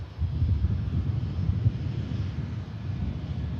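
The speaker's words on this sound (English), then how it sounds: "Coming in from Istanbul, Pegasus A321 Neo, Airbus airliner." A Pegasus Airbus A321neo airliner arriving from Istanbul at Manchester Airport gives a steady, broad low engine roar at moderate distance, with a little wind noise and no speech.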